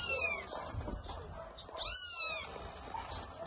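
Kittens meow from a small cage in an animal shelter, several short rising cries with one louder, sharper call in the middle, all over a steady murmur of background noise and someone speaking.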